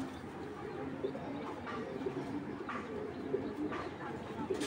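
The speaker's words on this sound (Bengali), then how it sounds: "মাদি কবুতর।" A female pigeon coos softly, with low repeated calls heard against a constant background hum.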